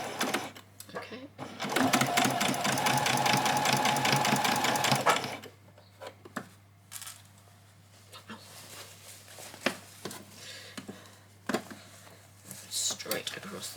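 A sewing machine stitches fabric for a child's dress in a steady, fast mechanical whir for several seconds, then stops, followed by quieter handling sounds while a person talks.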